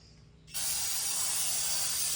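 Cleaner sprayed onto a Rocky Mountain mountain bike during maintenance: after a quiet moment, a close, loud, steady aerosol-like hiss begins and runs continuously to the end.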